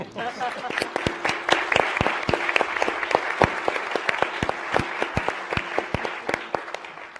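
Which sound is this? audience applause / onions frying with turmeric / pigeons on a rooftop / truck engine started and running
audience applause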